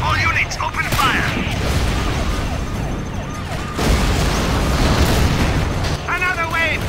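Gunfire and explosions from a Command & Conquer Generals battle between Chinese forces and the GLA form a dense, continuous rumble of booms and shots. Siren-like tones and voiced unit callouts cut in over it.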